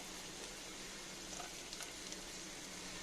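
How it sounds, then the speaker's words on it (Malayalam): Finely chopped garlic sizzles in melted fat in a pan for white sauce pasta, a steady, soft crackling hiss with a few brief pops, heard alone. "നമുക്ക് 1 ടീസ്പൂൺ വെളുത്തുള്ളി ചെറുതായിട്ട് അരിഞ്ഞത് ഇട്ട് കൊടുക്കാം."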